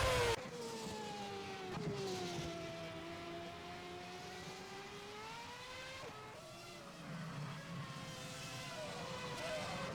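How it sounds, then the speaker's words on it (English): Race car engines drone and shift pitch steadily through a warm-up lap of a German Grand Prix sim-racing championship, several cars blending into a continuous near-field whine, with a voice faintly present underneath. "We've got one or two cars just finishing their final lap of warm-up"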